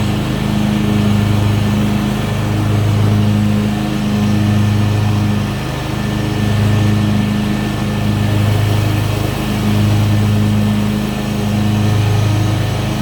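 A Husqvarna TS242 ride-on mower's engine runs nearby with a steady, buzzing drone that swells and fades in a slow, regular pulse.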